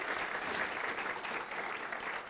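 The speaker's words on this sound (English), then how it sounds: "that deserves a round of applause" At a State of the City event, the audience gives a round of applause for the Mayor Pro Tem, now in his seventh year serving the city, a steady, full crowd clapping sustained throughout.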